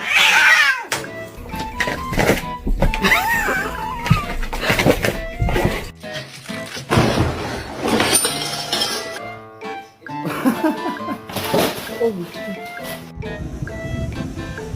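A kitten on its first beach day meows loudly and repeatedly in insistent, plaintive cries, close and clear, with brief gaps between calls.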